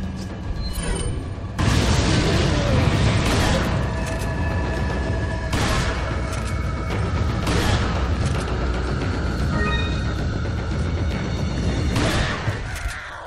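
Loud shotgun blasts in the video game Resident Evil 4, several booming shots spaced a few seconds apart over dense, continuous game noise and music, with no talking.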